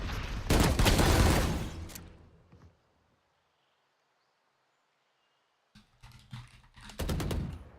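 Gunfire in the Valorant video game while playing as the agent Yoru, with two loud bursts of rapid shots, one at the start and one at the end, separated by several seconds of near silence.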